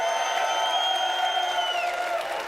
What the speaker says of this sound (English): the crowd making their feelings known here, Zoe